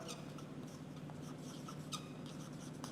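Chalk or a marker writes on a board during a biology lesson on DNA structure, producing faint, irregular scratching strokes and squeaks over a constant room hum.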